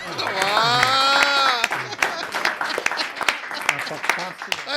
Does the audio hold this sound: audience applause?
yes